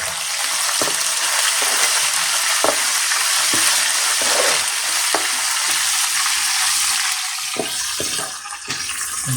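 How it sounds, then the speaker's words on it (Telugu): Dried red chillies and curry leaves hit hot tempering oil for sambar and crackle in a loud, continuous sizzle. Sharp pops and utensil taps come through at intervals. "తాలింపు వేగింది కదా ఇప్పుడు ఎండుమిరపకాయలు కరివేపాకు కూడా యాడ్ చేసేసుకోండి"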